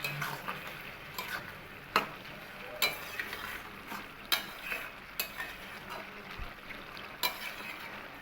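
Bottle gourd with shrimp being stirred in a cooking pan: scattered utensil scrapes and light clinks over a low steady sizzle, about eight sharp strokes spread irregularly, close and moderately quiet, no voices.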